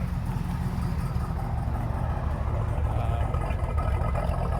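1969 Chevrolet Corvette convertible with a 350 V8 and 4-speed idling with a steady, loud low rumble that stays even from start to finish.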